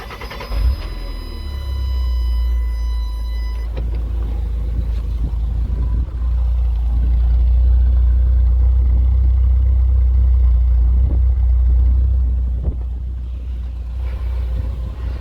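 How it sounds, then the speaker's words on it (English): A 1985 Toyota Tercel SR5 wagon with a replacement engine idles steadily after start-up, with a deep, smooth exhaust rumble that is close and constant. An early high whine fades out after the first few seconds, and wind sounds outdoors. "You can hear the exhaust."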